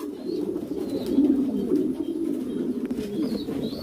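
A European Lahore Sherazi pigeon coos in soft, repeated low murmurs, close and fairly quiet, with faint chirps in the background.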